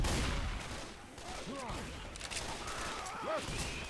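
Gunfire from the zombie shooter video game Left 4 Dead 2, a few sharp shots with ringing tails against a busy game soundscape, close and moderately loud, with brief voices in the background.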